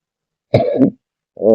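A single close cough, a short pause, then another brief throat sound or cough.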